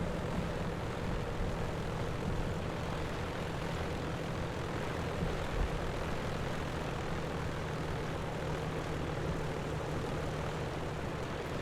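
A propeller aircraft engine drones steadily at a low idle-like roar while taxiing after landing in an Alpine flight simulation, continuous and fairly close with no speech.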